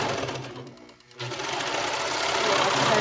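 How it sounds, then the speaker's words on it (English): A serger overlocks the raw edge of fabric for an elastic waistband. Its fast, loud mechanical whir runs close up throughout, easing briefly for a moment near the start before resuming at full speed. "I'll serge off the edge."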